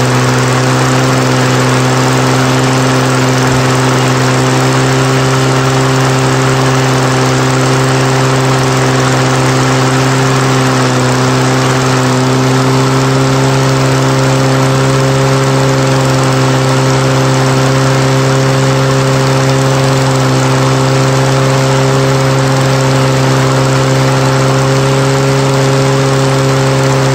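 A 1996 Toro commercial 22040 mower's old two-stroke engine runs at a high steady speed, a loud close continuous buzzing drone with no change and no voices.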